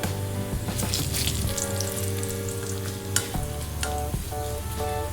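Sliced onions and a bay leaf fry in hot oil for a dal tempering, a dense continuous sizzle with occasional stirring clinks and scrapes, close and steady throughout, no voices.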